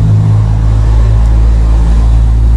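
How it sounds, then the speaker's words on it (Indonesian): A car passes outside a small photocopy shop, a loud low engine rumble that holds steady and close throughout. "Ada mobil lewat."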